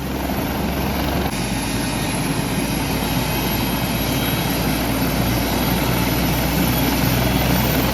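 Helicopter engine and rotor increasing thrust on a trip to Kedarnath, a loud, steady, close roar with continuous whine and low thrum, no talk.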